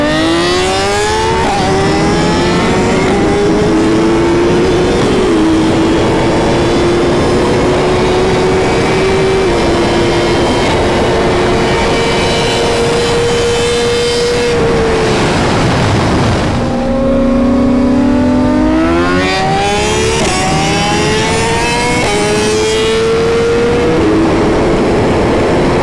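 A built racing Suzuki Hayabusa motorcycle engine screams loud and close, holding a high drone with rising revs, a sharp drop around a shift or lift, then climbing pitch again through repeated gear changes.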